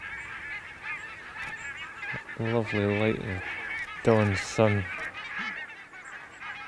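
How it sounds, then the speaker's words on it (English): Wild geese honk at dawn near the northern tip of Norway, in two clear bursts of rapid, nasal calls from a flock, fairly near, with someone speaking a few quiet words between them. "That's definitely geese there now."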